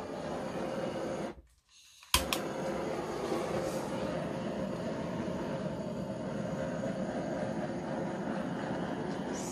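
A gas blowtorch running low on fuel torches acrylic paint cells with a close, steady hissing roar. It cuts out for a moment, then catches again with a sharp click and roars on.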